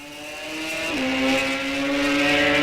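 Drag race cars at an ET bracket series event launch together and accelerate, a loud sustained engine roar rising in pitch, with a tone shift about a second in as a gear changes, with no talk.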